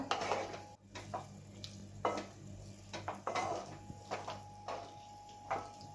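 Cashews being stirred into hot chikki sugar syrup in a pan for homemade cashew chikki, with a series of close scraping and clinking spoon-on-pan strokes at an uneven rhythm.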